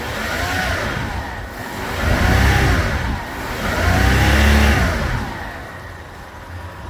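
A mid-1990s Honda 50hp in-line three-cylinder four-stroke outboard with three carburetors revving up and easing back twice, loud and close, with no talk over it.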